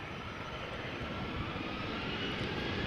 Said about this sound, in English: Embraer 190 KLM, flight 1201 going to Stavanger.